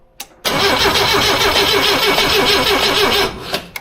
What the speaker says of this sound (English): as I turn the motor over, that should flash